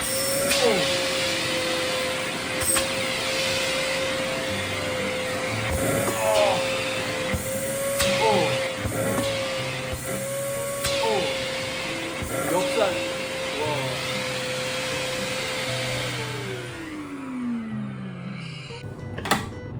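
A Catchwell CX PRO Magic Tower N cordless vacuum cleaner motor whines steadily with a high-pitched tone, interrupted by clunks and handling noises, then winds down and stops near the end.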